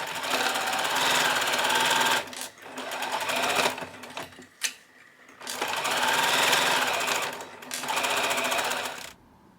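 A sewing machine stitches a skirt to a back bodice in two long, loud, close runs of rapid, even needle chatter, separated by a pause with brief handling noise.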